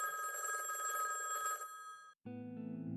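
A telephone rings on and on without being answered, a steady electronic trill that stops briefly and then starts again in a lower, buzzier tone.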